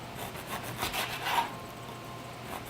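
A knife slices the end off a red velvet biscotti log, giving a soft, close rasping scrape that rises and fades over a couple of seconds, faint and alone without talk.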